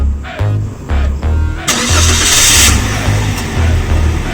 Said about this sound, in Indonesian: Secara kita dengerin dulu gimana rasanya mesin ini sebenarnya.